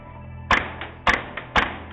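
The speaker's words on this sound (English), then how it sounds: "This is such a good sounding gun." Three sharp airsoft gun shots spaced about half a second apart, fired in low light during an indoor skirmish, each a crisp snap standing alone over a steady background hum.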